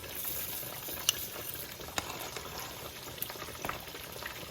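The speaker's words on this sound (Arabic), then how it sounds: "وخليهم يطيبوا حبوب الشوربة." Libyan soup with meat, finely chopped coriander and orzo-like tongue-of-bird pasta simmering in a covered pot, giving a soft, steady bubbling and sizzle with occasional small clinks, close and fairly quiet with no voices.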